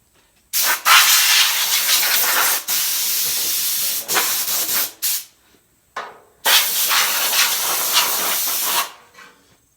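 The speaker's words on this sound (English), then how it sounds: "Let's take some air and blow this out real quick" Loud, close bursts of compressed air hissing from a nozzle, blowing sanding residue off a 1979 Ford F100 body panel, several long blasts with brief gaps and clicks between them.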